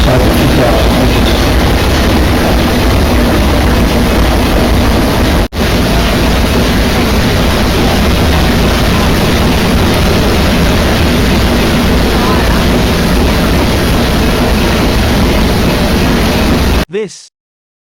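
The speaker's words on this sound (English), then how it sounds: "This section is showing the workings of this ship's engine that was built in Dunedin." A ship's engine built in Dunedin runs on a lake, a loud, dense and steady mechanical roar that fills the space without letup until it cuts off abruptly just before the end.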